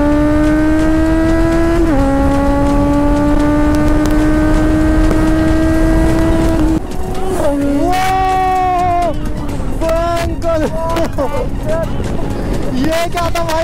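A motorcycle engine screams through rising gears as a rider on a Kawasaki Z900 travels at over 200 km/h, then another vehicle roars past close by in a sharp fly-by with whining pitch shifts, loud and continuous beneath wind noise.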